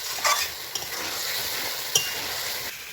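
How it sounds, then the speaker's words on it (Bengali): Chicken pieces frying with spices in a pan give a steady, close sizzle, with a few sharp scrapes and clinks of a spoon stirring against the metal; no one speaks. "এখন এই চিকেনের সঙ্গে এই মশলাগুলো আরও ভালো করে কষা নেব।"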